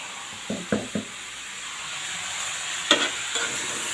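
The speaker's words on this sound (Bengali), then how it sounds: "একে একে সব মশলা দিয়ে আস্তে আস্তে পুরো মিশিয়ে নেব" Cumin-garlic paste and spices sizzle in a pan under a steady hiss, broken by several sharp scraping stir strokes, a trio early on and a couple more later, with no talk.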